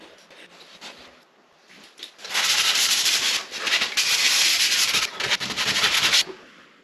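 Wooden Craftsman-style window trim on a self-built post-frame home being sanded, a steady close rasping hiss that swells loud for several seconds after a quieter start, with no voices.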